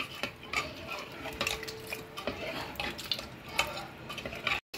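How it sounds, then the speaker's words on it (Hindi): Banana bun batter stirred in a pot, with a spoon scraping and clinking against the metal in irregular strokes, close by and without any voices. "चला लेते हैं"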